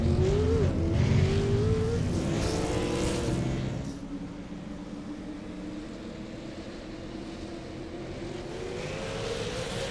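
Race cars in an eSports racing video game roar along the track in a bunched pack at a restart. Engine tones rise and fall loudly for the first few seconds, then drop to a steadier, fainter drone.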